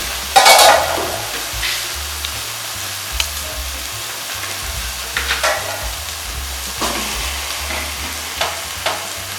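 Ghee hitting a hot pan for beetroot halwa: a sharp burst of sizzle at the start, then a steady low frying hiss with occasional faint clinks and stirring.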